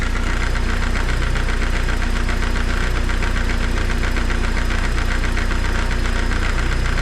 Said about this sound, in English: The engine is working fine